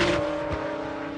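A McLaren race car at the 1996 Le Mans 24 Hours drones briefly in a steady engine note, running wide through a corner, with tyre and road noise at moderate distance.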